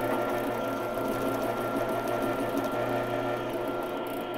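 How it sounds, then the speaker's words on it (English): A bandsaw cuts off a wooden plug, giving a loud, steady, even mechanical whir that holds without a break from start to finish. "I'll cut that off on the bandsaw and I'll have my plug."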